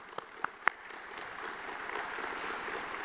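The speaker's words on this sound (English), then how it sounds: "So I want to give a round of applause to them as well." An audience at a logistics luncheon gives a round of applause: a few distinct claps at the start, then a soft, steady patter of many hands that stays fairly quiet and distant.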